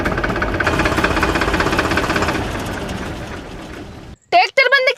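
A tractor engine runs steadily with a loud, rumbling, knocking drone in a village setting, then cuts off abruptly near the end as voices speak over the silence.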